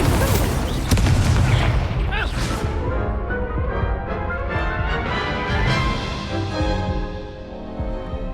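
A fiery Incendio spell bursts in Hogwarts Legacy, a loud roaring blast with crackling rumble that swells and slowly fades over several seconds amid other combat noise.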